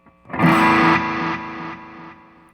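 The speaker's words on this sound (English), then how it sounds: "as the repeats die away, of course, they're going to be carbon copies of that distortion" A distorted electric guitar chord rings out through a digital delay, its echoes repeating as distorted copies, each slightly quieter as they fade away.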